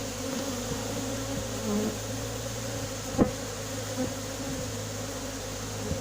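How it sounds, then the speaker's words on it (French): A swarm of honeybees, stirred by smoke, hums in a dense continuous drone close by, steady and buzzing with a faint thump partway through. "Et là je commence à fumer un peu plus pour faire voler un peu plus les abeilles"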